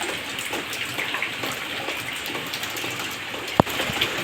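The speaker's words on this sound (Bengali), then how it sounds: "আর দেখো কীরকম বৃষ্টি পড়ছে" Heavy rain pours steadily outside a house garden where buckets and basins are set out to catch the water, making a constant dense hiss with one sharp knock near the end.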